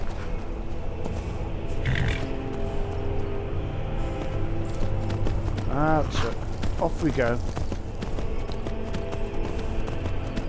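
A horse's hooves clip-clop at a steady pace while it is ridden in the video game Skyrim. The footfalls sit under a voice and some mechanical game sounds.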